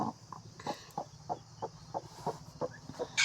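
A brooding hen sitting on six white eggs gives a run of short, evenly spaced clucks, close and fairly quiet, with no talking over it.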